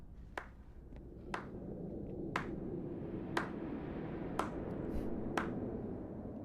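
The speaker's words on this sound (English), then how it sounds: "Slow clap." Slow clapping in a video game: single sharp claps spaced about a second apart, crisp and fairly close over a low background hum, with no talking.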